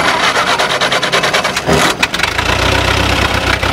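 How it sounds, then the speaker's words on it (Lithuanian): A vintage GAZ AA truck engine cranks with the starter and catches, then settles into a steady, loud idle close by. "Čia užsiveda iš variklio skyriaus."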